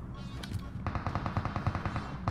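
Rapid sniper and automatic gunfire in the battle game PUBG: a couple of sharp shots, then a fast, evenly spaced burst of about a dozen reports, loud and close over a steady game background.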